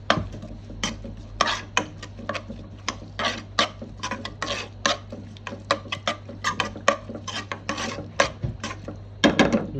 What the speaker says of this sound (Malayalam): എന്നിട്ട് നല്ലോണം മിക്സ് ചെയ്യാം.